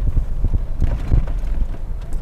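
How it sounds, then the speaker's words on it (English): Horses walk along a mountain trail in Colorado, hooves landing in an irregular clip-clop of soft thuds, fairly close, with light wind noise and no talk. "Oh, look, there's horses."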